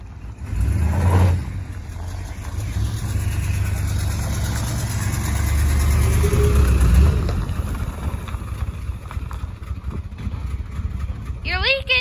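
Engine of a 1984 Ford F150 pickup truck, revived after sitting over five years and leaking gas, runs steadily as a low rumble throughout while it drives off, with people talking over it.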